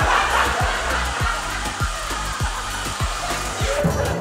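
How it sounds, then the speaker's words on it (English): A handheld blow dryer runs continuously close by, a steady whooshing roar with a rhythmic pulsing motor buzz underneath, aimed at a frozen pizza to thaw it. "But I do have a blow dryer!"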